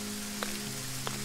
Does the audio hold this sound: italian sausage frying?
no